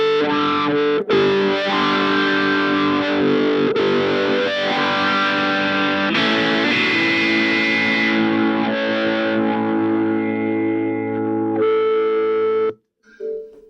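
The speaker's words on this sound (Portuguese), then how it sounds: "eu estou ligando agora esse wah-wah antes da distorção" Electric guitar played through a wah-wah pedal placed before a distortion pedal, giving a loud, sustained, saturated tone with sweeping filtered movement across held chords and notes, ending abruptly with a brief trailing strum.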